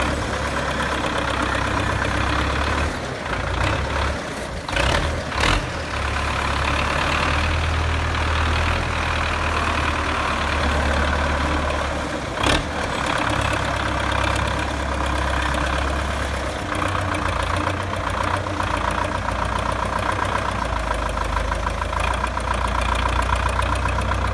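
A 2005 Belarus 510 tractor engine runs steadily, a loud, rough diesel idle with a knocking low throb, interrupted by a few brief clunks and bumps before settling again.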